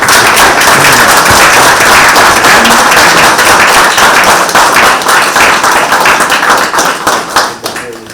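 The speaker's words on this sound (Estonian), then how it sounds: "teeme täna kõigepealt algatuseks veel ilusa tugeva aplausi Toomas" Applause from an outdoor crowd in a church park in Rapla during a candle-laying memorial ceremony, with dense clapping sustained throughout and thinning slightly toward the end.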